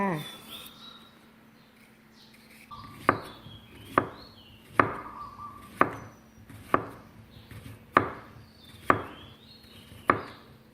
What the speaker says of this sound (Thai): ต่อไปแตงกวานะคะ ตัดหัวท้าย ปอกเปลือกค่ะ